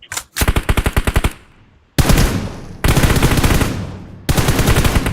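Rapid automatic gunfire from a first-person shooter video game rattles out in dense, loud bursts, first a quick string of evenly spaced shots, then three long sustained volleys broken by short pauses.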